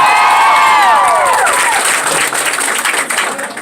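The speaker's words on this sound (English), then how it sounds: "so let's give him a round of applause" A concert crowd at a live pop show in Denver erupts in loud, dense applause and cheering, with high whistles and whoops sliding over the clapping, then thinning slightly toward the end.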